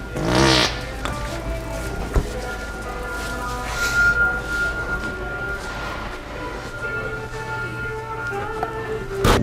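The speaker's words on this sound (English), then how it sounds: "Did you just fart?" A fart sound set off as a prank inside an elevator, a short loud burst near the start followed by quieter squishy noises, with people nearby in a small enclosed space.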